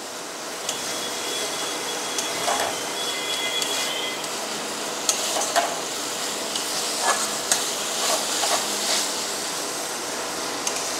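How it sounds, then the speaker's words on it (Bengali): Masala spice paste fries in oil for a jackfruit and prawn curry, a steady soft sizzle with occasional scraping stirs and clinks of a utensil against the pan, heard alone without talk. "দেখুন মশলাটা আমার খুব সুন্দরভাবে কষানো হয়ে গেছে, তেল ছাড়ছে আস্তে আস্তে করে"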